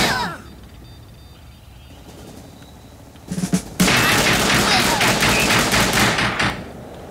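Machine gun fire in the video game Tiny Troopers comes as a quiet stretch followed by a sudden burst of loud, rapid gunfire with a boom, continuing in dense rattling volleys for several seconds before tapering off.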